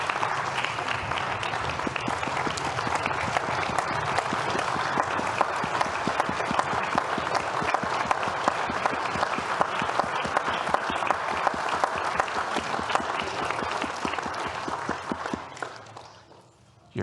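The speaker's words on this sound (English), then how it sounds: "You're clapping before you know if I'm going to get the page right." A synagogue congregation claps steadily and loudly through a rabbi's installation service, the sustained applause holding even for over fifteen seconds before tailing off abruptly.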